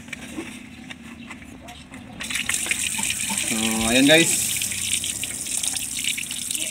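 Water gushes out of an opened radiator drain plug as a car's cooling system is emptied, a steady splashing flow that swells louder midway, with someone speaking briefly over it.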